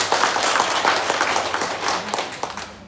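A group of people claps at a village gathering in Wainai welcoming a PKK chairwoman, a brief burst of brisk, close hand clapping that fades toward the end.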